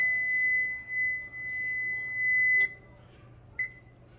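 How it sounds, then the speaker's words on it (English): An oven timer sounds while donuts from box cake mix are baking: one steady electronic beep holds for about two and a half seconds and cuts off, then a single short chirp follows over quiet room hiss. "just get my timer to turn off"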